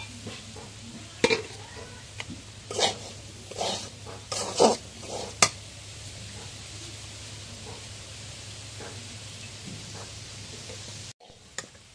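Long beans stir-fry in a pan, a steady frying sizzle with scattered crackles and stirring scrapes in the first half, then a continuous even hiss that briefly cuts off near the end.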